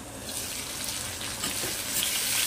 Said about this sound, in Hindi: आप देख सकते हैं गोभी हमारी फ्राई हो रही है